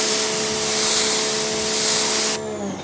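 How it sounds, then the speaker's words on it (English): A hose sprays water in a steady hiss across the bare, unprotected paint of a car being rinsed during a wash, loud and close without a break, then cutting off abruptly near the end. "when I spray on here, the water is going to stick, it's going to sheet"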